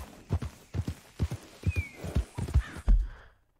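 Horse hooves clip-clop in a quick walking rhythm in Red Dead Redemption 2, followed by a short whinny near the end, all close and fairly loud with no talking.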